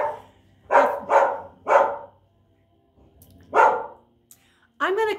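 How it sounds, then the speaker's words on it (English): A dog barks in three quick bursts, then once more after a pause, close by and loud, with a brief whining or yelping sound at the end. "I'm going to tell her to stop barking"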